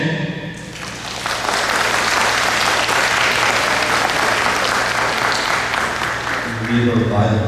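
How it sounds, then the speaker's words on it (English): An audience at a Hmong business gathering applauds the business committee co-chair, a sustained wash of clapping after a brief spoken introduction, with a voice returning at the end. "I want to give a round of applause to my co-chair for our business committee, Mo Chang."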